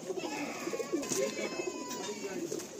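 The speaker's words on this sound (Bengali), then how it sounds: "তো এই মাদি পায়রাটা আমরা রিলিজ করে দিই, একটু নর পায়রাটা আমরা দেখি।" Madrasi pigeons in a loft cooing continuously and softly while a hen is released and a cock is handled, with soft rustling throughout and no speech.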